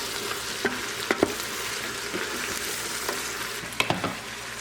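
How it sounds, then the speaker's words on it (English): Ham and bean soup sautéing in a Crock Pot Express while ham is stirred in: a steady close sizzle with a few sharp spoon scrapes and clacks against the pot. "I'll put the ham in there with it. Stir that around."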